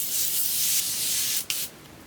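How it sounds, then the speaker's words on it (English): Morphe Continuous Spray setting spray misting onto a made-up face, a long, close hiss that cuts off briefly, then a short burst and a fainter trailing spray. "I'm gonna set it using this Morphe Continuous Spray"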